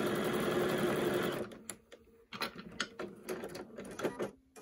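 A sewing machine stitches a pleated fabric mask with a brief, close, steady whirring run, then stops, leaving a series of small clicks and handling knocks as the fabric is adjusted.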